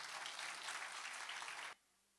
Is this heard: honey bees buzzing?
no